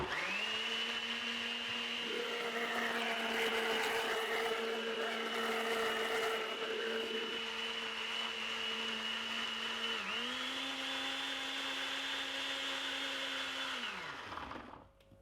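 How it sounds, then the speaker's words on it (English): A powerful blender whirs steadily while blending carrot, orange, ginger, lime and cucumber juice, its motor pitch shifting slightly midway before spinning down at the end, loud and alone. "this blender is a little bit more powerful than my other blender"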